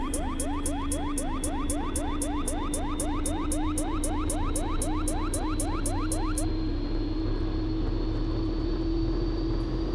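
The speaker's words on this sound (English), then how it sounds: "Now it's going to make a racket as it starts up, something very typical of the Pilatus PC12" A Pilatus PC-12 turboprop starting up in the X-Plane flight simulator: a loud whine climbs steadily in pitch under a rapid, even ticking of the igniters, which stops partway through while the engine roar carries on.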